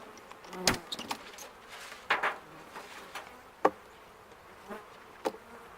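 Honey bees buzz softly around a hive being split in February, the hum broken by several sharp knocks and clicks from handling frames, spaced irregularly and close.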